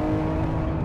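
A 1000-horsepower Nissan Skyline R34 engine drones loud and steady at half throttle, a dense close-up roar held through the short moment near 7,500 RPM.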